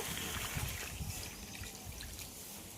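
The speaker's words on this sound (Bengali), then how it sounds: "এবার এতে পরিমাণ মতো জল দিয়ে দেব" Water is poured into a pan of chicken and potatoes, a short soft trickling and splashing sound with a low bubbling underneath, fairly quiet.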